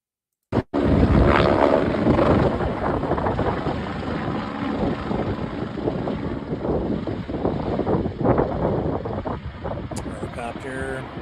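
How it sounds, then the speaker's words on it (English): Helicopter flying near a fire, water being brought to fight the blaze, a steady loud rotor roar mixed with strong wind buffeting on the microphone, continuous throughout after a brief bump at the start. "Helicopter."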